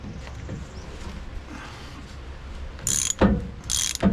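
Ratchet wrench cranking down a bolt on a 2007 Ford F350 driveline, heard as two short clicking bursts near the end after a stretch of low background noise, close and fairly loud.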